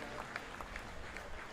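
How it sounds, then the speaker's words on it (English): Rugby fans at a Havelock SC versus Kandy SC league match applaud an injured Kandy Sports Club player, a brief, distant patter of clapping from the stands. "the fans in attendance from both the sides give a round of applause to the injured player from Kandy Sports Club"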